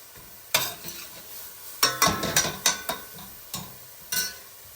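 Chunks of leek sizzling in a hot pan while being stirred and broken up, a faint steady frying hiss under a run of irregular scraping, clattering stirring strokes.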